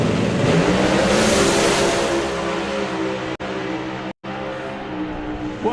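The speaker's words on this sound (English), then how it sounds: "And turbo car." Turbocharged drag racing car launching and accelerating down the strip, a loud sustained engine roar that rises in pitch and stays close and dominant for several seconds.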